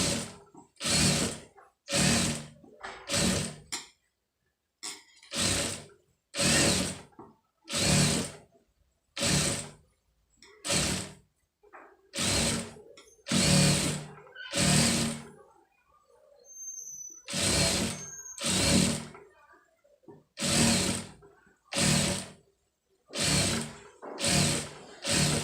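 A sewing machine stitches piping onto fabric in repeated short bursts, each a rapid mechanical whirr of a second or so separated by brief pauses, close and clear with no talking.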